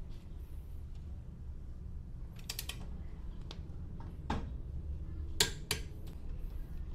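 Torque wrench clicking while tightening wheel lug nuts in a criss-cross pattern, set to about 108; a few sharp, close clicks scattered over steady low background rumble, with no talk.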